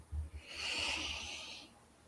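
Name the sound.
breathing in through the nose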